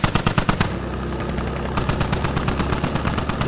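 A DShK heavy machine gun fires in a video game battle, rapid loud bursts of booming shots in quick rhythmic succession, with a brief lull before another sustained burst.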